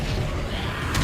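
A Confringo fire spell bursts in the Hogwarts Legacy video game: a short, loud, dense blast with a brief sharper flare at the very end.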